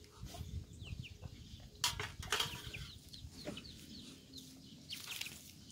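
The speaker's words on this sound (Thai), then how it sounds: "เป็ดไก่มา" Farmyard chickens and ducks kept as livestock in a rural setting, heard as scattered clucks and calls at moderate distance over a steady outdoor background, with no talk.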